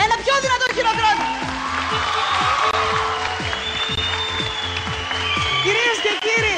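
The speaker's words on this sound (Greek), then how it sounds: "Ένα πιο δυνατό χειροκρότημα." A TV show audience applauds loudly and continuously, its dense clapping running beneath a voice speaking over it from start to finish.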